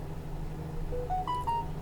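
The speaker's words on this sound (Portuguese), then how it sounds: "Nesse multímetro que permite bipar, ele vai bipar." A digital multimeter set to continuity gives short electronic beeps that step upward in pitch, faint over a low steady hum, while testing a resistor.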